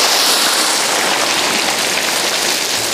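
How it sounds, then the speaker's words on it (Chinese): Whole lobsters deep-frying in a wok of hot oil, a dense, steady crackling hiss that fills the clip evenly and loudly from start to finish, with no voices. "六成油温下到龙虾炸哈"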